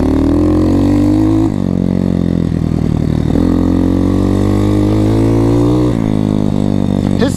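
A KX motocross bike engine runs loud and close, a steady throaty idle broken by several quick blips of revving throughout.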